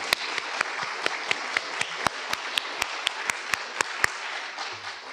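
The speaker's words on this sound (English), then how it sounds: "let's give our panel members a round of applause." A conference audience gives the panel members a modest round of applause, with distinct, evenly spaced claps rising above a softer patter before it dies away into a quiet room.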